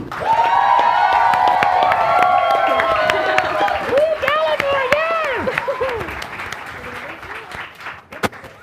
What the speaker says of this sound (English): another round of applause for Galivor